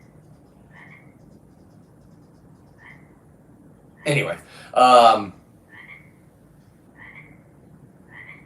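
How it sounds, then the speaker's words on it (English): Frogs croaking in the daytime in the countryside, short faint croaks repeating at a steady rhythm in the distance, briefly interrupted by a voice and a louder burst midway. "Listen to the frogs in the daytime."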